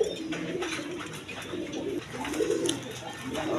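Pigeons for sale at a bird market coo repeatedly in soft, low, throaty bursts close by, with faint background chatter.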